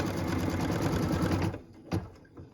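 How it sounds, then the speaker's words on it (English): A sewing machine stitches a placement line for a purple felt piece on a Christmas tree skirt, with a steady, close mechanical whir that runs continuously and then stops, leaving a few faint clicks. "what we're going to do is stitch the placement line right now for our purple felt"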